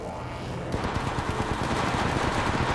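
Rapid automatic gunfire in a video game, loud bursts of repeated shots in quick succession with no talking over it.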